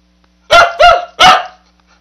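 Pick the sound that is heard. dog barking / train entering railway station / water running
dog barking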